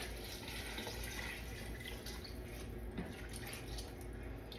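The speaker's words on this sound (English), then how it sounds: "Okay, so I'm gonna pour the rest of the water in here." Water is poured into a Royal Berkey countertop water filter, a steady splashing trickle that runs unbroken at moderate level throughout, with a brief thump near the end and no speech.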